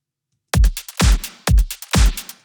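A computer-made beat with a kick drum, four loud punchy booming hits at an even pace, each with a short decay and some brighter layered sound on top, after a brief silence.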